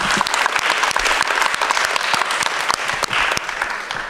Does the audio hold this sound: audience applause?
yes